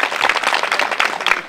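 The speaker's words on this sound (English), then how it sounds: "Can we give them a round of applause?" A short, loud burst of audience applause at a community singing event, many hands clapping densely and close together with no pause.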